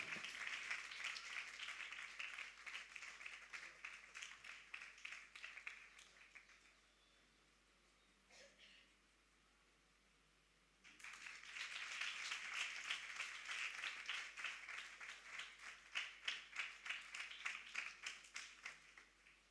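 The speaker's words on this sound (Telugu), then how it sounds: "చప్పట్లు కొడదామండి అందరూ కూడా." A church congregation at a fasting prayer service claps in two sustained bursts of dense, rapid applause, separated by a brief quiet gap, moderately loud in a large room.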